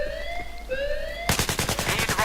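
Gunfire in the video game Battlefield 3 erupts after a rising siren-like tone, a rapid automatic burst of loud, repeated shots filling the latter half without pause.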